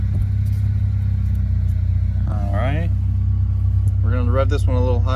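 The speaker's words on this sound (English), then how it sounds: "We're gonna rev this one." Idling 1995 Honda Civic engine, a steady low rumble that stays constant throughout, with people talking over it in the middle and at the end.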